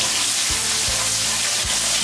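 Onions sizzling in oil left over from frying fish, a steady loud hiss with a few stirring scrapes against the pan, close up and without talk.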